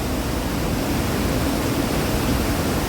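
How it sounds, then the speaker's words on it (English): A powerful waterfall on Vancouver Island swollen by heavy rainfall, heard up close as a continuous, loud, broadband roar of rushing and crashing water with no voices over it. "there's a lot of water coming down"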